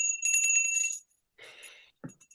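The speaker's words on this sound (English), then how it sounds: "you may or may not be able to hear the bell, because apparently no one can ever hear the bell when I ring it" A small hand bell is shaken, giving a bright, rapid ringing for about a second, then a few softer clinks after a short pause.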